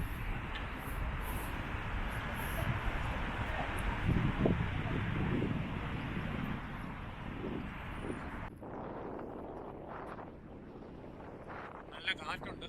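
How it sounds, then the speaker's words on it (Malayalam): Wind blows across a large bridge over a river in Londonderry, buffeting the microphone with a continuous rushing roar that eases somewhat toward the end. "നല്ല കാറ്റുണ്ട്."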